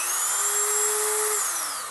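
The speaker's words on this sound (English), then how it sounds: "So we're going to drill on a slow speed." A power drill runs at its first, slow speed setting while boring through glass for a cake stand, giving one steady, loud, continuous whine that tapers slightly at the end, with no talk.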